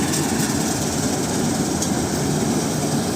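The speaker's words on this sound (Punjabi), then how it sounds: "ਵਧੀਆ ਚੱਲਣ ਰਹੀ ਆ ਕੰਬਾਈਨ" A paddy-harvesting combine harvester, model 7301 with an AC cabin, runs steadily nearby with a dense, continuous low engine drone and broad mechanical roar, unchanging throughout with no voices.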